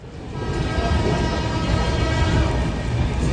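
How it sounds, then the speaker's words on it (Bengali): The Dhauli Express pulls out of Basta railway station around midday, a loud continuous rumble of the moving train close by with no talk. "তো এই মুহূর্তে আমাদের ট্রেন বস্তা রেলওয়ে স্টেশন ছেড়ে দিচ্ছে দুপুর 1:15"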